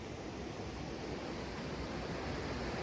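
Small woodland river on Dartmoor running steadily, a dense, even rush of flowing water close by with no breaks or voices over it.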